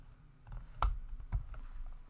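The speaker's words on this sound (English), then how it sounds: "I type in ls," Keys on a computer keyboard are tapped softly as a short command is typed, with a few quiet clicks and two slightly firmer strokes close by.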